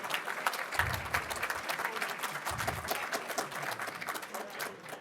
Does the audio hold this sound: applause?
yes